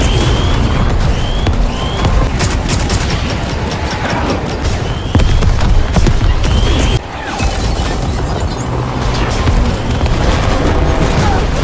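Dozens of explosives launched by a robot in a film go off in a loud, dense barrage of booms and crashes that runs nearly continuously, with a brief dip partway through.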